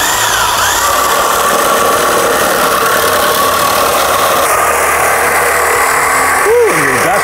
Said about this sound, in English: Nothing like a good Sawzall